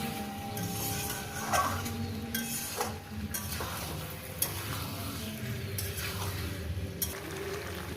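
Masala sautéed in a pan with a soft, steady sizzle and irregular spatula scrapes and clinks against the pan, fairly quiet and without speech.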